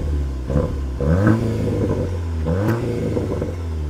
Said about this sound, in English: Two-liter four-cylinder under the hood, now at 333 horsepower.